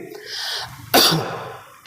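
A single sharp cough bursts out close to the microphone, followed by a brief breathy tail and quiet room sound.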